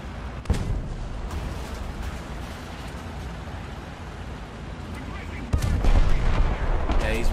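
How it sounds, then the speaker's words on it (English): Teammates firing in War Thunder, with a sharp shot early on and then a heavier burst of gunfire near the end over a steady rumble of combat, all close and loud. "Why are you shooting at teammates, man?"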